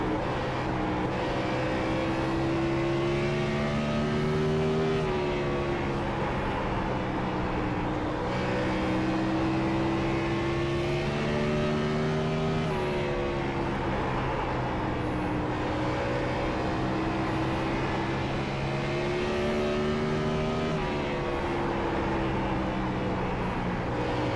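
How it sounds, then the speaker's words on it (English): A 900-horsepower race car engine lapping Bristol in the iRacing simulator holds a loud, sustained roar. Its pitch rises and falls in a regular cycle about every five seconds, like repeated laps, and no voice is heard over it. "God, this car sounds so good."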